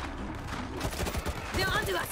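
Gunfire in the video game World War Z, a quick rattle of several rapid shots over a dense, noisy game soundscape, with a voice speaking at the end.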